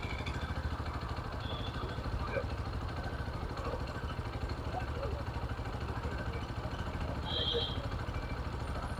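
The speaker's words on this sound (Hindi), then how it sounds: "सेल्फ मारूंगा और गाड़ी चालू हो गया" A TVS Sport BS6 motorcycle engine idles at about 1500 RPM with its clutch switch bypassed, giving a steady, even low rumble close by that continues without change.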